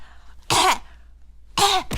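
Someone imitates a sick man's coughing with two sharp, harsh coughs close to the microphone, separated by a short pause, the second one a quick double.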